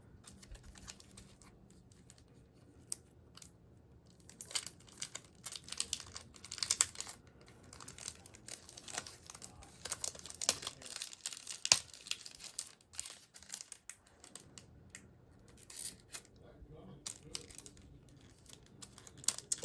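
Unpacking a small Spellbinders craft cutting die from its packaging, with scattered crinkling plastic and paper, light taps and rustles in an irregular rhythm, close and fairly quiet, no talking.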